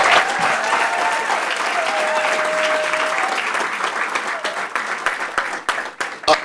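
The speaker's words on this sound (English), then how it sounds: "Give her a round of applause," Audience at a pitch competition gives a contestant a round of applause, dense clapping that holds steady and then thins into scattered final claps near the end.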